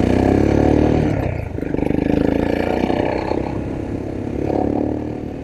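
A Royal Enfield Himalayan motorcycle fitted with a 462 big bore kit and aftermarket muffler rumbles loudly nearby, its engine note swelling and easing in a few revs over a deep, throaty idle.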